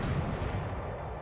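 Naval gunfire strikes a ship in the naval war game War in the Pacific, as a dense, loud, continuous rumble of blasts, heavy in the low end and without pause.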